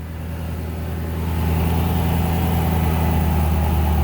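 A 2009 S197 Mustang GT idles steadily with the AC compressor engaged, giving a continuous low engine hum that swells slightly and holds, close and alone with no talk.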